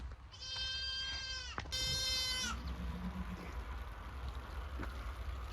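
Goats bleating on a farm in eastern Turkey, two long wavering bleats back to back, fairly close, over a constant outdoor wind-like hiss.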